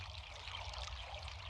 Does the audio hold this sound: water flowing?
yes